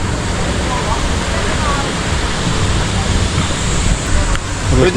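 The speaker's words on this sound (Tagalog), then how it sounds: "Ito yung Sprite Falls guys." Sprite Falls in Laguna pours in a steady, full broadband rush of falling water, close and continuous, with wind buffeting the microphone and faint voices mixed in beneath the roar.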